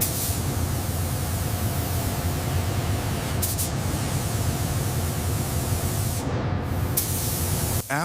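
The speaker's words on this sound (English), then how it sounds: "The SuperTruck II cab shell enters the automated paint booth for its meticulous," Automated spray painting of a SuperTruck II truck cab shell in a factory paint booth, a continuous loud hiss of spray with a steady mechanical hum beneath and a couple of brief clicks.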